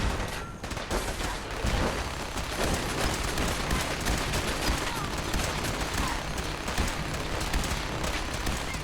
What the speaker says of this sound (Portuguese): acho que tá rolando um tiroteio já aqui embaixo